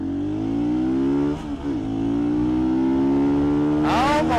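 An adventure motorcycle's engine revs hard and climbs in pitch while riding, dips briefly at a gear shift, then pulls up again, loud and close.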